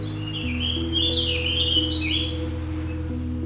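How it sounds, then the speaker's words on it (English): An Eastern Warbling-Vireo sings a rapid, almost frantic warbling song, one loud continuous run of twittering notes heard alone over a steady low hum. "a rapid and almost frantic warbling song"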